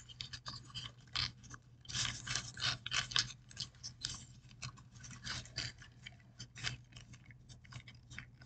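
Origami paper being folded by hand, with a flap tucked into a pocket: close, quiet crinkles, crisp rustles and small scraping taps in an irregular rhythm, with no talking.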